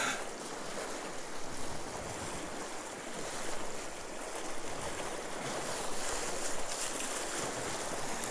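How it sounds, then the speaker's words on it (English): A strong water current rushes past in a steady, loud, unbroken wash, with wind buffeting the microphone throughout and no voices. "Man, that's one heck of a current."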